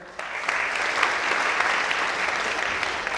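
An audience applauds at a Hindi theatre play, steady dense clapping from a large crowd that holds throughout.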